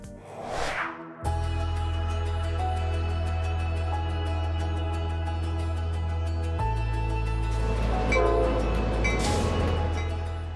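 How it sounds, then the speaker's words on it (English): A Lehigh Gorge Scenic Railway passenger train in the Poconos rumbles steadily with a loud low drone, shifting in pitch partway through and building in intensity toward the end, with no talk over it. "we've made it on our second passenger train here in the Poconos, the Lehigh Gorge Scenic Railway"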